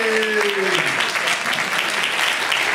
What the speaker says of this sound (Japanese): もう一度温かい拍手をお願いいたします。